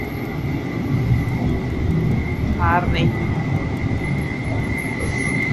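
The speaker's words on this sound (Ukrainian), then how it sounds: "Їде мій трамвай." Tram pulling in at a stop in Kraków, a steady rolling rumble with a brief squeal of wheels midway, heard under street noise as a person speaks nearby.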